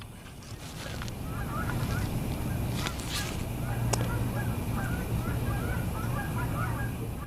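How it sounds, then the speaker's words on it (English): A noisy flock of geese honk repeatedly as they take flight, their calls layered over a steady outdoor rumble, fairly distant but clearly audible throughout. "It's the geese."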